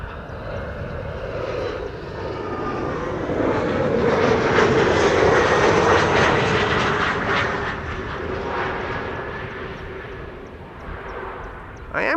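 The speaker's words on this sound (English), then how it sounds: "Alright, KLM Embraer 175, arriving from Aberdeen, flight" A KLM Embraer 175 jet arrives at Amsterdam Schiphol Airport, its engine roar swelling to a loud peak mid-clip and then easing off as it passes, with talk running underneath.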